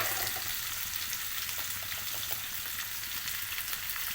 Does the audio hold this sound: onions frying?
yes